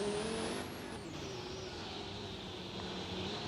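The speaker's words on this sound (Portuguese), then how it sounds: "Esse aqui é meu carro." A car passing or idling nearby, a broad steady engine and road rumble with a high whine that fades early, holding at an even moderate level with no speech.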